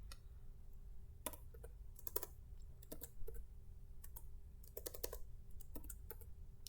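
Quiet, irregular bursts of keystrokes on a computer keyboard, with short clusters of clicks separated by pauses, close but faint over a low background hum.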